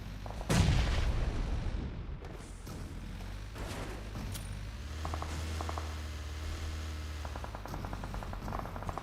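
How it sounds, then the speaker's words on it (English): Grenades exploding in a competitive esports shooter match, a loud close blast early followed by rumbling aftermath, then distant bursts of rapid gunfire rattling in the background. "Vampire Esports cooking nades, throwing it on Team Flash"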